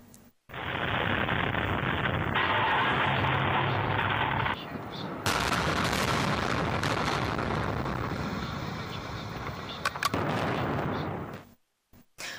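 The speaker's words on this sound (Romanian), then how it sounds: "Turnurile de răcire a unei centrale dezafectate din Marea Britanie au fost puse într-o clipă la pământ printr-o explozie controlată." Controlled explosion bringing down the last cooling towers of a decommissioned coal-fired power station in Britain: a sudden loud blast followed by a long, heavy rumbling roar of collapse lasting several seconds, then fading out.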